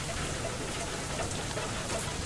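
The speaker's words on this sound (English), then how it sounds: "Ah, it's hail." Hail pattering steadily in the video game FAR: Lone Sails, a dense, even drumming of ice on surfaces that stays loud throughout with no clear pauses.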